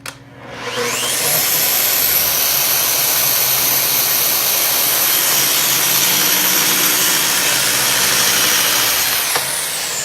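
A loud power saw cutting a wooden board for an antique drawer bottom whines up to full speed and roars steadily through the cut for several seconds, then begins to wind down at the end.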